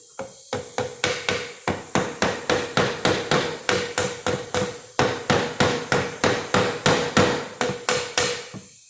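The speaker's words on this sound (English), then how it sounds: "a handy dandy hammer." A hammer strikes the bolts of a power steering pump in a steady, loud run of about thirty metallic blows, evenly spaced with a brief pause early on.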